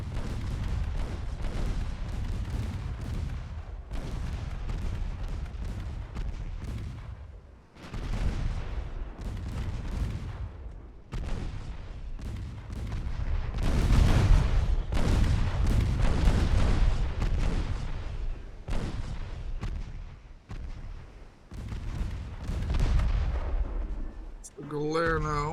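Heavy naval guns aboard warships in Ultimate Admiral Dreadnoughts, a naval battle video game, booming repeatedly in dense overlapping salvos with rumbling explosions, loud and continuous throughout.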